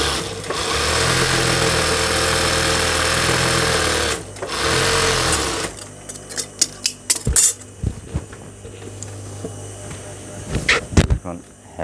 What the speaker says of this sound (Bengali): আমি আর একটা পাশে দিতেছি। এই পাশটাও সেলাই দিতেছি।